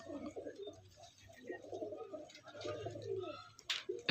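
Soft, throaty cooing from Andhra pigeons, including a male of the Stadium Kalanka type, rolls on in low murmuring phrases, with a brief sharp noise near the end.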